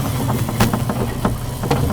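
A Surron electric motor fitted in a Postman Pat ride-on van runs on very light throttle, a close, rough, bumpy whirring with uneven knocks and rattles.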